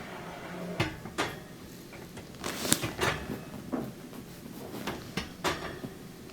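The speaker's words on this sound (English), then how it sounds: "Then I'll put the racks back in," Metal racks slide and clunk back into a Thermador wall oven, several sharp scraping knocks at uneven intervals, close up and without talk.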